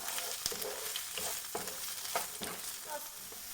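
Square-cut onion pieces fry in a pan as a steady, soft sizzle with occasional stirring scrapes and taps, heard alone without any talking.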